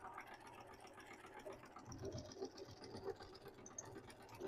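A sewing machine back-stitches along the zipper of a fabric pouch, a faint, continuous motor hum with a light rattling needle rhythm.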